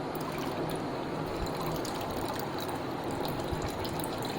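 Tamarind water, dissolved from a small lump of tamarind, poured into a pot of water, giving a steady close trickle and splash that runs without a break for the whole stretch with no talk.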